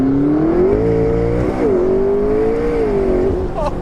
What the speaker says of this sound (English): with the turbo whoosh